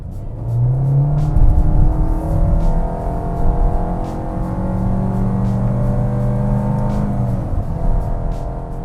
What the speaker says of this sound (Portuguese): vou dar umas aceleradas variadas aqui para vocês ouvirem a rotação do motor